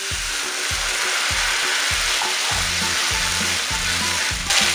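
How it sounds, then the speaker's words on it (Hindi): Onions fry loudly in a pan as tomato puree goes in for a rajma masala gravy, giving a steady, close hiss with a rhythmic stirring scrape repeating through it. "देखिए प्याज हमारी अच्छी तरह से भुन चुकी है और हम इसमें ऐड करेंगे टमाटर प्यूरी जो हमने बनाकर रखी हुई है।"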